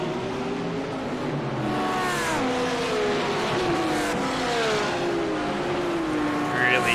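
Porsche and BMW race cars in an iRacing sim race at Sandown accelerate hard down the back straight, engines rising and sweeping in pitch one after another, loud and continuous, with commentators talking over them.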